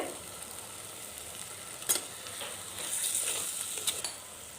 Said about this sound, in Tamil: தக்காளி நல்லா வதங்கிடுது.